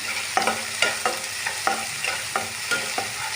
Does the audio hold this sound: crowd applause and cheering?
no